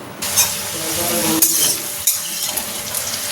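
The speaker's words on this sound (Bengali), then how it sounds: "এই যে আলুগুলোকে ভেজে নিচ্ছি।" Potatoes frying in a pan for a vegetarian lunch: a loud, close sizzle with stirring, marked by a couple of sharp utensil knocks and clatters against the pan. No one speaks.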